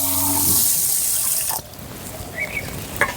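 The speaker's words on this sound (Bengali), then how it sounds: "এবার চালটা আমি পরিষ্কার হওয়া অবধি একটু ভালো করে ধুয়ে নেব।" Rice washed under running water in a sink, a steady rushing tap stream that stops halfway, followed by quieter swishing, dripping and a soft clink.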